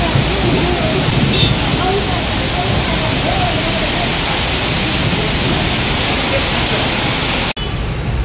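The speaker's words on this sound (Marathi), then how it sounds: "होय, पाऊस आला, पाऊस." Heavy rain pours down loud and close as a dense, continuous roar that runs steadily without a break.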